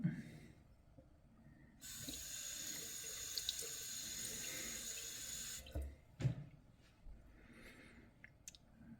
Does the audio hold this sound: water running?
yes